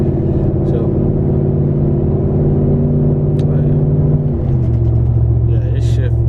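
A lifted Ford F-150 truck on 26x14 wheels cruises with a steady, loud engine and road drone, its low rumble shifting in pitch near the end as it changes gear, while someone talks over it.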